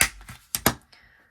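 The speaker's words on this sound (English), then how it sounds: "I'm just going to take my corner punch. I'm just going to round the corners" Corner punch rounding the corners of a paper journal, a few sharp close clicks and snaps in quick succession.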